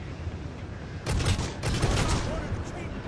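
Sustained gunfire in Necromunda: Hired Gun, a dense burst of rapid shots over a rumbling backdrop, with a voice talking underneath.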